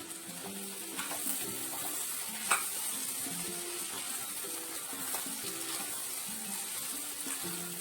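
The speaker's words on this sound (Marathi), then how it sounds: "भाजीला परत एकदा ओल्या नारळाचा कीस टाकून मिक्स करून घ्यायचे" Green bean and potato curry with grated fresh coconut, stirred in a pan, producing a soft steady sizzle with light scraping and an occasional clink over quiet background music.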